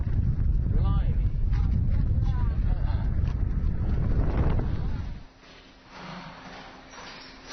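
Strong wind blows outdoors on a rural stretch of Hainan, roaring loudly across the microphone for about five seconds before dropping to a softer gusting background.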